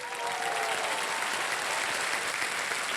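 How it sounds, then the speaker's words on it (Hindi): A studio audience on the quiz show KBC applauds contestant Virat Iyer after his winnings are announced, a dense, steady burst of many hands clapping at once, brief and uniform throughout. "ताली बच जाए इनके लिए।"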